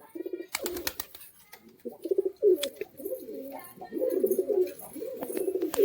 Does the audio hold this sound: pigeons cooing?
yes